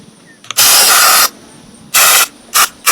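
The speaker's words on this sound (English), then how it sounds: "I'm going to spray some more of that fly spray on it too real quick." Fly spray from an aerosol can is sprayed onto a deer being treated for a broken antler, four sharp hissing bursts, one long then three shorter, loud and close.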